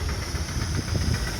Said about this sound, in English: From the northeast is a Fowler ploughing engine.